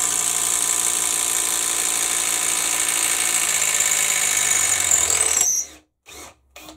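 Bosch GDR 18V-EC brushless impact driver backing out screws, a loud continuous high-pitched motor whine with rapid hammering that runs for several seconds, then stops and gives two short final bursts.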